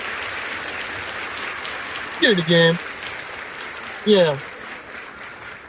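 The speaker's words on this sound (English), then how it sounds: "Go ahead and give a round of applause" A sustained wash of applause plays under a voice, which briefly speaks over it twice.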